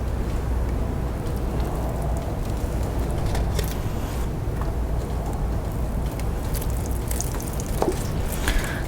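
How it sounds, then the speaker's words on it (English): Water draining through a potted succulent, a steady wet trickle and dripping with soft splashes and rustle, close and continuous throughout. "And then let that water run all the way through there, and then water again."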